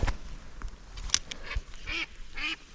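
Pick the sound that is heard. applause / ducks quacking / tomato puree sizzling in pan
ducks quacking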